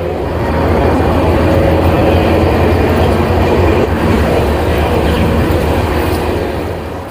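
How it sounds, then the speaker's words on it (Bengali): Ganadevta Express passenger train rolling into a platform at a busy Indian station, a loud, steady rumble of wheels and carriages with faint clatter that swells, holds and then eases slightly. "7 নম্বর প্ল্যাটফর্মে এইমাত্র ঢুকলো গণদেবতা এক্সপ্রেস।"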